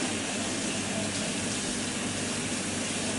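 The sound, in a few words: tap water running while washing a knife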